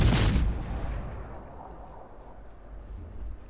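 The Cleveland cruiser's guns fire in World of Warships: a single loud, booming salvo at the start that rumbles away into a long low decay with distant battle noise, without talk.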